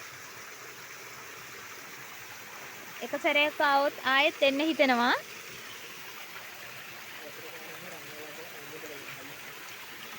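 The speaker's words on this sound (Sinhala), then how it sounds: "මේ වතුර පාර ගලාගෙන එන්නේ රන්වලාගල කන්දේ ඉඳලා." A mountain stream pours down the Peeli Hatha Ella waterfall from Ranwalagala hill, a steady, even hiss of rushing water throughout, with a person speaking briefly over it near the middle.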